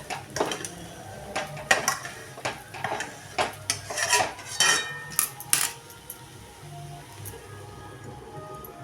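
A metal lid is set onto a pot of sheera, a semolina sweet, giving a series of loud clanks and rattles of metal on metal, followed by quieter cookware taps and a faint hiss from the pan.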